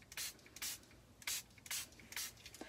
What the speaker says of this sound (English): now I just want to spray a little more red